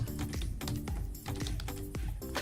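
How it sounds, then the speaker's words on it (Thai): A command being typed on a computer keyboard, a quick, close run of crisp key clacks in a busy, uneven rhythm with no talking. "พิมพ์คำว่า composer นะครับ"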